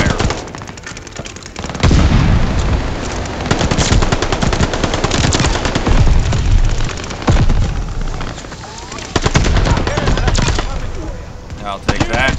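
Rapid automatic gunfire from an MP-40 submachine gun in Call of Duty: Vanguard, sustained loud bursts with scattered explosions and battle noise, briefly easing between volleys.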